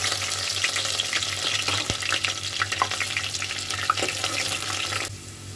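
Ground onion and green masala fry in oil for hara keema, a loud steady sizzle with clicks and scrapes of stirring, then dropping abruptly quieter near the end.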